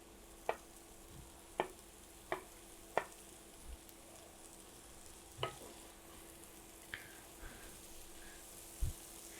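Spinach sizzles softly in a pan while a utensil stirs it, scraping and tapping at irregular intervals over a faint, steady frying hiss.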